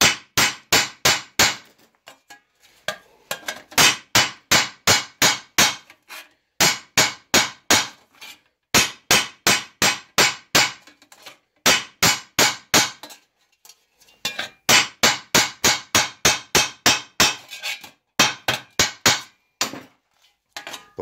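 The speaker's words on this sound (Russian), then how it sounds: "Проходим пяточкой молотка." The heel of a hammer strikes tin sheet metal while a three-piece duct elbow is flanged, in fast rhythmic bursts of sharp metallic blows separated by short pauses, loud and close with no talking.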